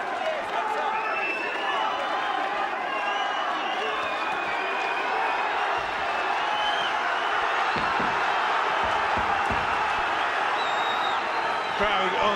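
Raucous crowd at a Commonwealth welterweight title boxing fight at Shannons Gym, a dense, loud roar of shouting and cheering with whoops and bursts of clapping, steady throughout, with a commentator talking over it.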